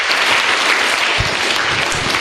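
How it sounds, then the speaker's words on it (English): Audience applause at a 2018 science quiz: dense, steady clapping from a full room that stays loud and even throughout, with a few low thumps mixed in. "Give them a big round of applause, please."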